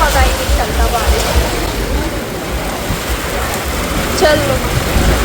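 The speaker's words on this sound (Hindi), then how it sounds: "इतनी बारिश हो रही है, मैं पूरी भीग गई हूँ" Heavy monsoon rain pouring down around an auto-rickshaw on a street, a loud constant hiss and patter with faint voices and traffic sounds underneath.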